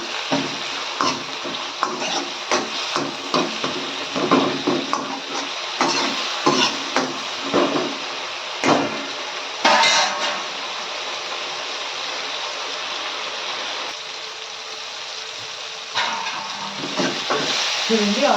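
Oil frying in a pan before rice goes in, a continuous loud sizzle broken by repeated scraping and stirring knocks, with a brief louder burst midway and a quieter stretch later.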